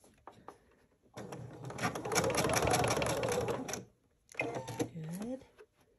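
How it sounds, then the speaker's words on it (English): A sewing machine with a quarter-inch foot runs a steady, fast stitching burst while piecing a quilted witch's hat, then briefly pauses before starting again for a shorter run, with a voice talking softly in between. "I have my 1/4 inch foot and I'm going to hold on to those threads and I'm just going to start to sew."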